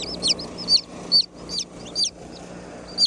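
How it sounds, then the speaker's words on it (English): Chicks and chickens in a brooder peep and cluck in quick, high chirps that come in short bursts every half second or so, close by over a soft steady hum. "Pretty little chickens. Here we are at the brooder."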